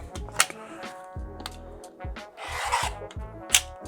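Quilt fabric edges being trimmed with a rotary cutter along a ruler, giving short rasping scrapes and rubs over a steady tonal background, close and moderately loud.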